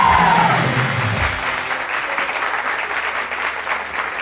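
Applause from an audience at a Hindi-language stage event, a steady wash of clapping that begins under a brief voice and carries on evenly to the end.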